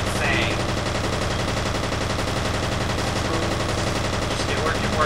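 Rapid automatic gunfire from the video game F.E.A.R., a loud, dense stream of shots that runs continuously throughout with no pauses.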